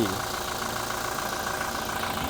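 A Toyota Revo 2017 2.4-litre turbo diesel pickup engine idling steadily nearby, a low, even rumble with a faint knocking clatter and no change in pace.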